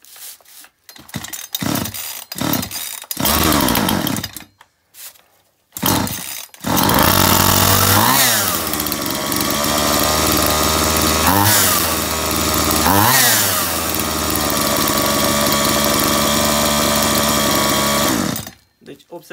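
A chainsaw with a chain that keeps spinning at idle is started after a few short pulls and brief sputters, then runs loud and close at a steady buzzing idle, with two or three quick blips of revving before it cuts off.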